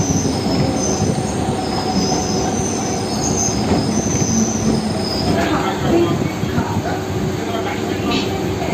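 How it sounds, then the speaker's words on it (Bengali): A Kolkata Circular Rail local train pulls into Princep Ghat station with a loud, continuous rumble of wagons and high wheel squeal close by, while voices talk in the background. "আর বন্ধুরা, এখন আমরা প্রিন্সেপ ঘাট স্টেশনে ঢুকলাম।"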